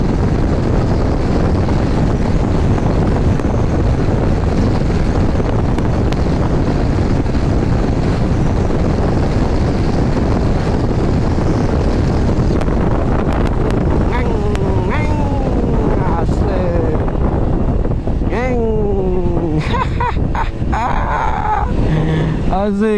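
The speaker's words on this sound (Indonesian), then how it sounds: "Mana anginnya kenceng banget" Strong wind roars steadily across the microphone of a Yamaha NMAX Turbo scooter carrying a passenger on hilly roads, loud and unbroken for the whole stretch, with faint voices surfacing near the end.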